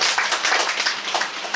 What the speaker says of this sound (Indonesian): kita beri tepukan kepada Datuk Pelakon Tong